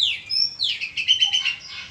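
Oriental magpie-robin (kacer) chirping in a series of bright, close, rapid tweets and warbles, a lively run of notes with short gaps, heard alone without talk.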